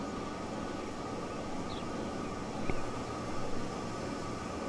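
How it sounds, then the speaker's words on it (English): A plane lands at Berlau Airport in Transport Fever 2, heard as a steady, even engine roar and rushing air that swells slightly midway, with no talk over it. "One plane ahead, landing at Berlau Airport."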